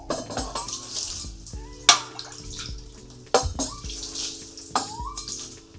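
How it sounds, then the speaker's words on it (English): Water thrown onto a hot stove in a Finnish sauna, heard as several splashing, hissing bursts with sharp onsets, close by, over a steady humming background. "you could always just throw a little bit of water there and that'll certainly cool down"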